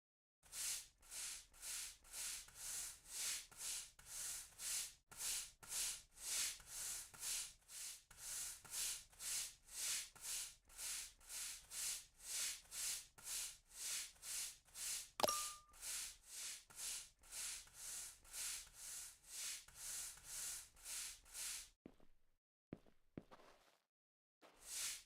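Steady, evenly spaced scrubbing strokes as rust is cleaned off a van in the survival driving game Nomad Drive, dozens of rhythmic swishes repeating for about twenty seconds before stopping into near silence.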